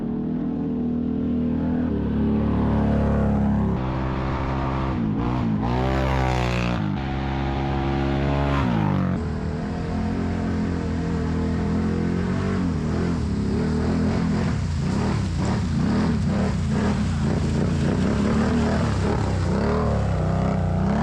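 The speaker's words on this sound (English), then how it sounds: "I definitely got to take it for a shakedown ride." The engine of a Can-Am 1000 runs and revs steadily on a shakedown ride after valve cover work, with rising and falling pitch throughout.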